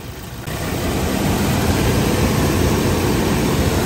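A 2019 Toyota Innova engine runs steadily at around 1500 RPM, a loud, continuous broadband roar with hiss heard close up, rising at the start and then holding constant.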